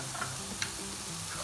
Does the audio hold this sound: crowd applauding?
no